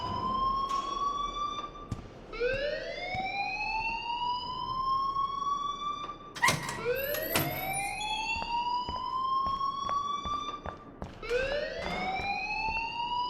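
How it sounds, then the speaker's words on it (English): A fire alarm in the game Life Is Strange wails in repeated rising sweeps, loud and close, cycling about every four seconds with sharp clicks between sweeps and no talk. "please turn off that alarm since that's your job"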